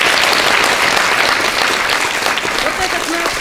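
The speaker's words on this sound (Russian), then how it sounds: "Давайте еще раз им поаплодируем." A theatre audience applauds a children's theatre studio after its performance, with steady, dense clapping that fills the room and continues evenly from start to finish with no voices on top.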